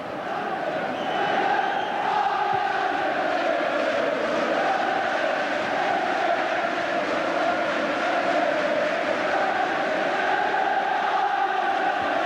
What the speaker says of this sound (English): The sound of the crowd tells the story here